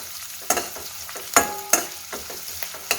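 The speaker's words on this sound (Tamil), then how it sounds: "இதை நல்லா நம்ம கலந்து விடலாம். நல்லா கொஞ்சம் ஃப்ரை ஆகட்டும்." Dried red chilli frying in a pan for a Kerala-style puttu kadala curry, with broadband sizzle under sharp scraping stirs that come roughly every half second to second, close and moderately loud, with no talk.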